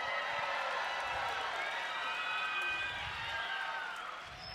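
A lively concert audience cheers and applauds at a holiday band performance, a steady wash of clapping and shouts sustained throughout before tapering slightly at the end.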